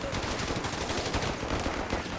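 Enemy rifle and machine-gun fire in a Company of Heroes 3 battle on the Taranto coastline, a dense, continuous crackle of overlapping shots at mid distance with no pauses.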